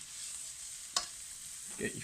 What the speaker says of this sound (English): Meanwhile that's frying